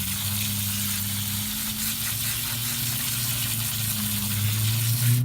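Water sprays steadily while a rock tumbler barrel is rinsed out, a close, continuous hissing gush over a low steady hum, without pause.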